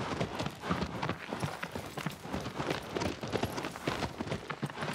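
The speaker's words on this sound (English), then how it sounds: "Oh my god, this horse!" Rapid drumming hoofbeats of a horse galloping in the video game Shadow of the Colossus, a steady fast clatter running throughout, fairly loud with no talk.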